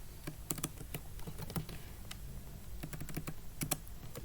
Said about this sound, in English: Now type the name of the variable num